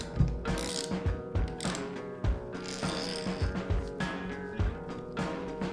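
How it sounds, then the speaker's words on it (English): A long bolt and nut are turned to press a wrist pin into a piston on a connecting rod during a wrecked moped restoration, giving repeated ratcheting metal clicks in a steady rhythm, close and alone. "We place the piston onto the connecting rod and insert the wrist pin using a long bolt and a nut"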